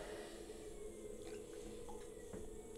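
Water splashes and trickles while a mug is thrown on a pottery wheel, soft wet swishing with a few small drips over a steady low hum.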